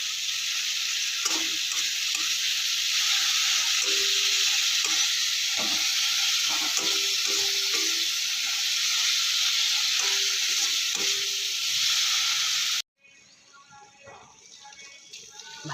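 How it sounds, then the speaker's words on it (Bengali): Spice paste and fried potatoes sizzle loudly in a pan with a steady frying hiss, broken by irregular scraping as a spatula stirs, before the sizzle suddenly drops away near the end. "এবার মশলাটাকে একটু ভালো করে কষে নেব।"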